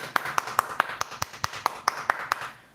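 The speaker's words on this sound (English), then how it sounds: "Hand clap for the scammers, damn it." One person's hands clap in a quick, regular rhythm, roughly ten crisp claps at close range, soft overall and fading at the end.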